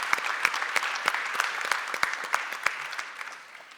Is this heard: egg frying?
no